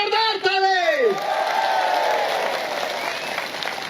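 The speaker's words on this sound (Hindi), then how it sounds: "एसीएफ के लिए एक बार जोरदार ताली।" A crowd at a public political gathering in Arunachal Pradesh bursts into loud, steady applause with some cheering, after a voice speaks briefly over a microphone at the start.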